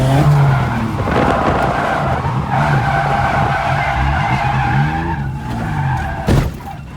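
Turbocharged BMW E36 drifting at a Friday night event, running 8 PSI of boost: loud, close tire squeal wavering in pitch over a revving engine, with a sharp thump near the end.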